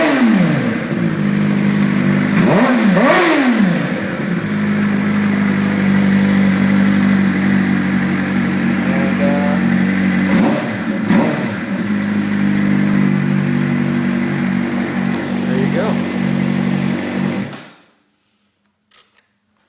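A 2011 Suzuki GSX-R 600 fitted with an Arrow GP2 exhaust revs steadily and loudly up close, with a deep, sustained engine drone, a few sharp throttle blips early on and midway, then cuts off abruptly to near silence at the end.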